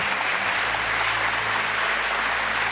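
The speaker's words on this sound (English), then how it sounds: "Big applause." Steady, dense applause from an audience at a young inventors awards ceremony, loud and continuous throughout with no voices over it.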